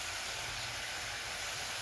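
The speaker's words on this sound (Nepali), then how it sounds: "हामीले मासु चाहिँ छिटो पाकोस् भनेर चाहिँ पहिला अगाडि नै फ्राई गर्दैछौँ" Meat fries in a pan with a steady, close sizzling hiss, even and continuous throughout.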